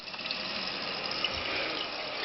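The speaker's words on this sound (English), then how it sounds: "allow for the toilet to fill up" A toilet tank refills with water after its flapper is replaced, a steady close hiss of rushing water that stays constant the whole time.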